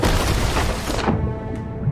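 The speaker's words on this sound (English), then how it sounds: "They're firing at us as well, by the way." A heavy booming cannon hit striking a ship in a naval video game, a loud crashing impact that rumbles for about a second before dropping off into a quieter low hum.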